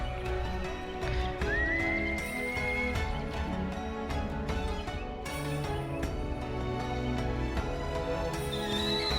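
A whistle calls a mount in the Monster Hunter Rise game, with two rising whistle tones heard over busy game music, horse-like neighing and clip-clop hoofbeats.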